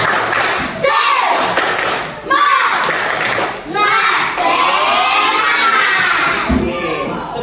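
Classroom of Indonesian schoolchildren chanting and shouting in unison during a rhythmic clapping cheer, loud and close, with repeated bursts of group voices and thumping claps filling the room.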